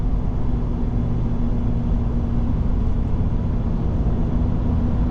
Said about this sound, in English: he's down in a very low gear and using his engine to slow himself down